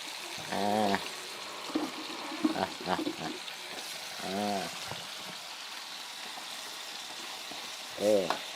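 Cassava crackles and sizzles in hot oil with a constant hiss, and occasional clanks and stirring noises break through the frying.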